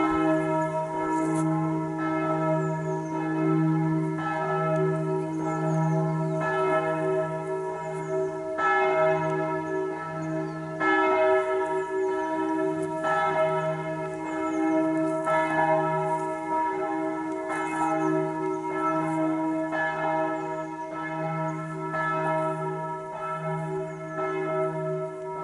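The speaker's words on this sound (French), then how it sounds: "merci les cloches" Church bells ring in a steady, resonant peal, repeated strikes overlapping with long ringing tones that hang continuously without pause and no one speaking.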